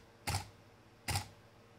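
A camera shutter triggered by a Miops Smart Trigger in laser mode fires twice, about a second apart, two short crisp mechanical clicks, close up over quiet background with no talking.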